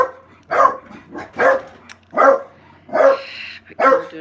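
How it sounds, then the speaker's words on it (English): A small dog barks in five sharp, evenly spaced yaps, close and loud with short pauses between each bark. "It's a wee dog."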